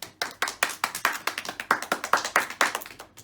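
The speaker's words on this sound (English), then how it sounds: "give Amy a round of applause" A round of applause at a Friday school assembly, heard as a small group's sharp, fairly even handclaps in steady rhythm for about three seconds, moderately loud and close, with no talking.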